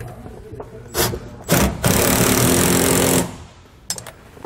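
A power impact driver tightens hex bolts with washers and nuts while a Lippert stabilizer jack is fitted to a 2011 Forest River travel trailer, giving short bursts and then a sustained loud rattling hammer of about two seconds.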